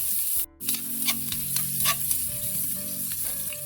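Bagoong, chili, garlic and onion sauté together in a hot pan, giving a steady close sizzle with stirring scrapes and small crackles. A brief dropout comes early, then the frying carries on without speech.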